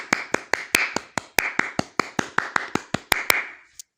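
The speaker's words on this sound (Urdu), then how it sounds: "سارا ہال تالیوں سے گونج اٹھا۔" Applause in a cartoon hall: a steady run of about sixteen evenly spaced, sharp claps, loud and close, with no voices, ending abruptly.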